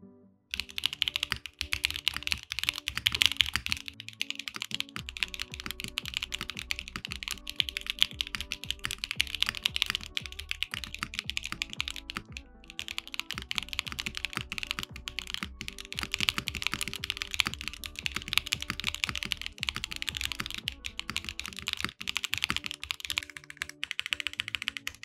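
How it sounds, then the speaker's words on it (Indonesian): Mechanical keyboard fitted with SWK Mocha V2 switches, PBT keycaps and an aluminium plate with no foam, typed on steadily and continuously with crisp, clacky keystrokes, close and alone for the whole stretch. "Tapi config keyboard-nya buat ke arah clacky karena pakai alu plate dan nggak pakai foam sama sekali."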